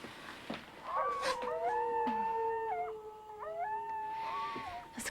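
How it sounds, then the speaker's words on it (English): Coyotes howl at night in a long, wavering chorus of rising and falling wails, several voices overlapping at moderate distance and sustained through nearly the whole stretch, with no talking. "Those coyotes. Yeah, they can keep you up at night."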